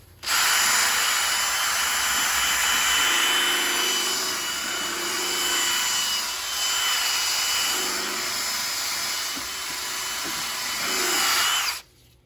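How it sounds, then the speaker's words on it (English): Power sanding on a truck cab during prep work, a loud continuous whine that starts abruptly, holds steady for about eleven seconds with slight dips in pitch and load, then cuts off, with no talking. "I don't want to bore you guys with a lot of sanding and prep work"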